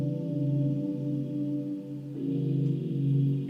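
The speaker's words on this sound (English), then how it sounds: "And it's like a almost like a dreamy type of pad." A soft, dreamy celestial synth pad from Ableton's Expand instrument plays sustained chords, shifting smoothly to a new chord midway, steady and mellow with no voices.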